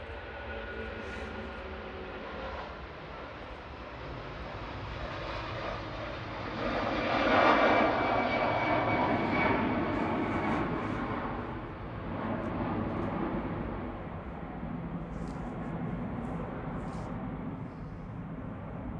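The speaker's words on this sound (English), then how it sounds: "Air tanker on the roll. Off to Palma de Mallorca." An Air Tanker jet rolls for takeoff at Manchester Airport bound for Palma de Mallorca, its engine roar swelling to a broad peak midway and then holding a steady, distant rumble.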